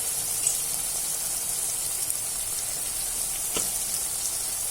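Spice powders fry in a pan while paneer is being cooked, producing a steady, even hiss of sizzling oil with a faint stir or tap partway through.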